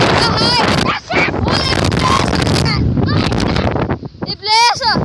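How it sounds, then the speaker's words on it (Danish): Strong gusts buffet the microphone during football played outdoors in blustery weather, a loud, continuous roar throughout with people shouting and talking over it. "Det blæser."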